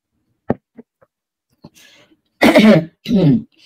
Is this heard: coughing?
yes